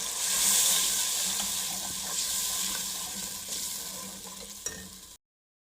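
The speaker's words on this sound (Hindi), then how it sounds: "2 टमाटर मैंने ब्लेंड करके वो डाल दिए।" Blended tomatoes with crushed ginger and garlic frying in a pan, a steady soft sizzle and hiss throughout with faint stirring clinks, fairly close and without voices.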